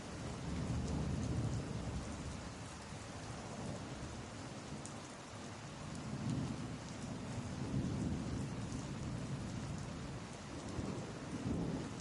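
Steady heavy rainfall pouring down with deep rolling thunder rumbling in repeated waves, a continuous stormy wash with no voices.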